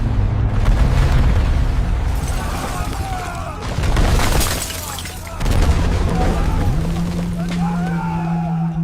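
Cinematic volcanic eruption and earthquake rumble, heavy booming surges and crackling debris bursts rising and falling over a deep continuous roar, loud and close, with a tonal drone underneath.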